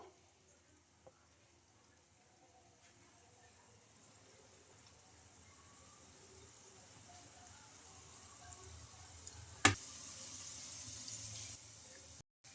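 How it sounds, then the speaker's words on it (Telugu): Murukulu (jantikalu) dough spirals fry in hot oil, giving a quiet, continuous sizzle that slowly grows louder, broken by a sharp tap near the end. "ఇంకా మిగతా వాటిని కూడా ఇలానే వేసుకుంటున్నా ఆయిల్లో"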